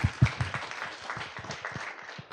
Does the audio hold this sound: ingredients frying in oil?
no